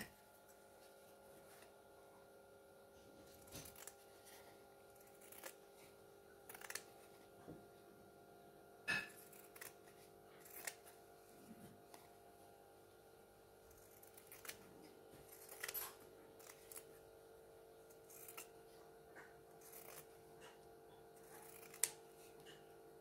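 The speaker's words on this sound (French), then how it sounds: "on va découper le tissu tout le tour afin de faire un retour" Scissors snipping fabric all around the edge of a corset pocket, quiet intermittent cuts of varied spacing over a steady low room hum.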